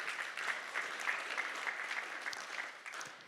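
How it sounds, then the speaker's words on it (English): An audience applauding during closing remarks at a conference, steady rapid clapping that stays fairly soft and fades slightly toward the end. "yes, I think you should clap for that."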